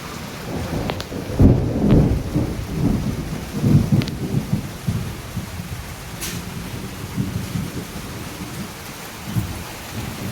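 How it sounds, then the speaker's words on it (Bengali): Steady rain falls with rumbling thunder rolling through, loud low booms swelling early and mid-way over a constant wash of rain on surfaces, near a cornfield with the maize harvest brought home. "বৃষ্টি"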